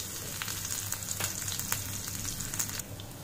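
Cumin seeds and green chilli dropped into two spoons of hot ghee, a close steady sizzle with light crackles and a few stirring clicks, quieter at the end, without talk.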